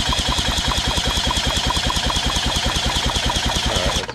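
A 1976 Johnson 15 HP outboard motor is cranked over without firing, a loud, steady, rapid mechanical chugging that holds evenly for about four seconds before cutting off, with no voices.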